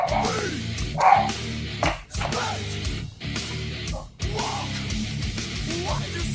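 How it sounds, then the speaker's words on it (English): A dog named Samantha barking repeatedly indoors, several close bursts of barks and yips in an irregular rhythm, fairly loud with brief pauses between. "That barking is actually Samantha."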